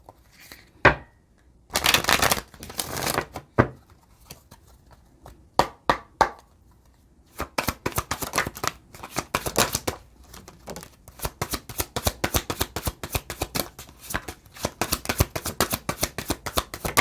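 A deck of cards is shuffled up close in repeated bursts, with crisp riffling flutters and sharp taps of cards being squared, running almost continuously in the second half and with no talking.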